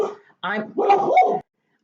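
Two dogs bark indoors in a home kitchen: two or three short, close, excited barks and yips in quick succession, loud and alone.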